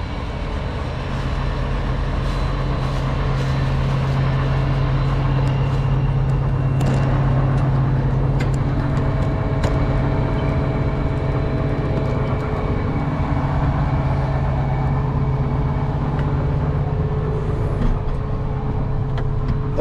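A Fendt Ideal 8T combine harvester with a 50 ft MacDon FD250 flex draper header, heard from inside the cab as a loud, continuous engine and machinery drone that stays steady throughout.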